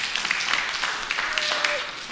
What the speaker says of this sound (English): if you guys could just keep clapping for Nyla and also for all the people who helped her